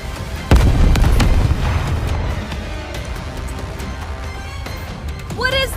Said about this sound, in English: Anti-aircraft guns confirmed.